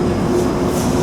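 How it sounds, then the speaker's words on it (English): Steady rumbling drone of a Disneyland Monorail train running, even and continuous with a faint high whine on top, no voices. "Let's go grab a monorail train."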